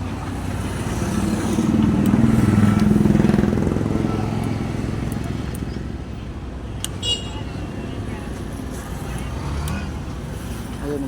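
A Suzuki Gixxer 150 Fi motorcycle engine starts and settles into a steady idle, with a low rumbling drone that swells early on before evening out, while a person talks nearby.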